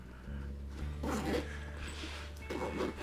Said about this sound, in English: So if you don't need this compartment extended, just zip it back.